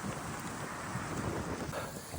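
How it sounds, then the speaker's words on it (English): Wind blowing at a winter outdoor campfire, a steady loud rush buffeting the microphone throughout, with no voices. "Oh, look at that wind."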